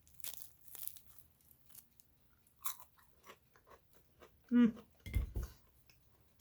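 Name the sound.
crunchy biscuit being bitten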